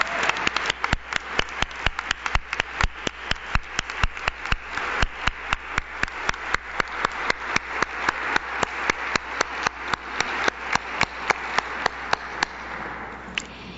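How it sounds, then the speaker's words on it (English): A summit audience claps for Indigenous youth: sharp, evenly spaced claps ring out one after another in a steady, slightly accelerating rhythm for the whole stretch, clear and fairly close. "Please stand and please give them an applause."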